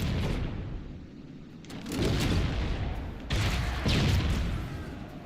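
Grenade explosions in Halo CE: two heavy, booming blasts, one after another, over a steady rumbling background of game combat noise.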